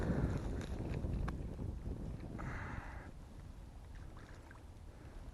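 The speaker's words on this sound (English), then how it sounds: "it's pretty windy" Wind gusting across a rock quarry pond during bass fishing, a steady broadband rush with low buffeting against the microphone, strongest at the start and easing slightly, with faint splashy water hints and no talk.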